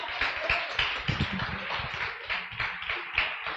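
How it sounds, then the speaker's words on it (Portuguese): A church congregation applauds the Lord during worship, a sustained, moderately distant ripple of many hands clapping, uneven with scattered sharper claps and no voices. "Uma salva de palmas para o Senhor, em nome de Jesus."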